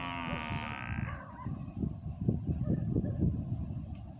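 A water buffalo gives one drawn-out, falling call nearby in farmland by the sea, followed by a few seconds of low rumbling and splashing noise.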